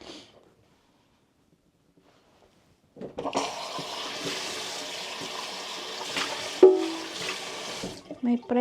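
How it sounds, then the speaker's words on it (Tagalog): Tap water gushes under strong pressure into a sink, starting abruptly after a quiet opening and running steadily and fairly loud for about five seconds, with a brief clunk near the end before it cuts off. "May pressure ang tubig ngayon."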